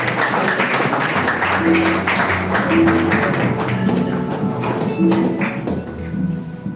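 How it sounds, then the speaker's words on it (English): An audience at a young pharmacists' zonal summit claps for a departing speaker, a dense, steady patter of many hands that carries through the whole stretch and thins slightly near the end. "Don't stop clapping until he takes his seat."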